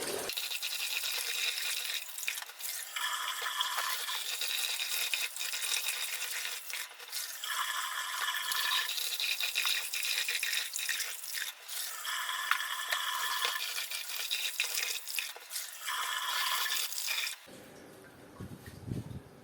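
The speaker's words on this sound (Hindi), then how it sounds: "3 से 4 पानी दफ़ा जो है ना इसको मैं धो लेता हूँ अभी" Wheat grains being washed in water by hand for hydroponic chicken fodder, a steady close scrubbing and swishing in repeated bursts that stops near the end.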